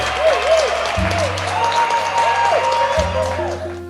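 An audience applauds at an evening event of music and cheese, giving a steady round of clapping while low tones sound beneath it.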